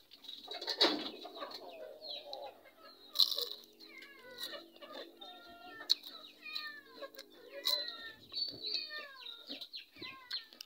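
Cat meowing repeatedly in a rural home setting, a series of short rising and falling cries, fairly close and moderately loud, with occasional chicken or bird sounds and faint background noise between them.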